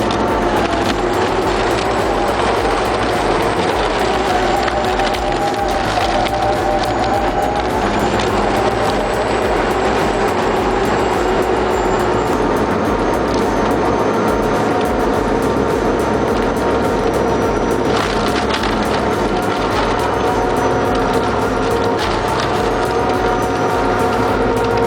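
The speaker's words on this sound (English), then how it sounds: "This Crambo 6000 redefines wood processing." A Crambo 6000 wood shredder with a turbo runs at full load, a loud, steady mechanical roar with grinding and rattling, unbroken throughout, with no voices.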